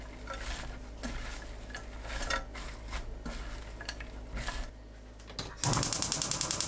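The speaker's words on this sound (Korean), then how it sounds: "팬에 들기름 2큰술, 새우젓 1큰술 넣고 섞어주세요" Perilla oil and salted shrimp are mixed in a cold pan, heard as soft repeated scraping and clinking of a utensil against the pan, ending in a burst of rapid clattering.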